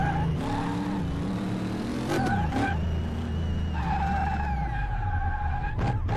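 Mercedes drifting in the Car Mechanic Simulator racing game, tyres skidding and squealing in long sustained screeches over a steady engine drone, loud and close with a brief break midway.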